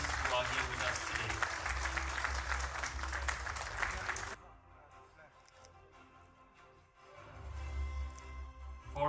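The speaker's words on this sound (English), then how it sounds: "a round of applause for the tourism buddies team" A crowd at a public tourism handover event claps loudly for several seconds, then the applause stops abruptly, leaving a quieter room with faint murmuring before noise picks up again.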